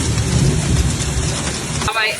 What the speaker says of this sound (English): it started raining hard again in the city and in some municipalities of the province, with gusts of wind and especially hail